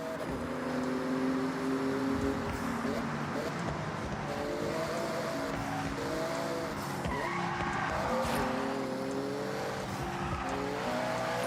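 A Porsche tearing through a speed zone in Forza Horizon, engine note rising and falling through gear changes with tire squeal and skidding, loud and close for the whole stretch, no voices.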